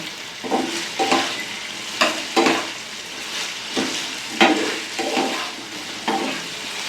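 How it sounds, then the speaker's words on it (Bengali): Chicken 65 is tossed and stirred in sauce in a sizzling pan, with a steady hiss beneath repeated scraping strokes about once a second, up close. "ভালো করে নাড়ি চাড়িয়ে নেবো যেন সসটা চিকেনের গায়ে ঢোকে।"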